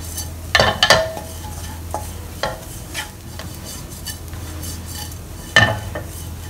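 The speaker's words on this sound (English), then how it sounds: "Stir them up well." Pan mee seasoning with salt and sugar being stirred in a pan: a low simmering hiss under a few loud metallic scrapes and clanks of a utensil against the pan, spaced irregularly.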